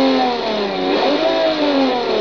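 A Toyota Supra with a 3.0-litre inline-six revs hard in the Forza Horizon 2 racing game, a steady loud engine drone that rises and falls in pitch throughout, with no talk over it.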